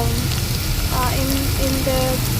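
Ginger garlic paste fries in hot ghee, giving a steady, dense sizzle and crackle that runs the whole way through with a few faint tonal clinks over it.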